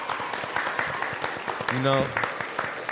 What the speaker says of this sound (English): Real applause too.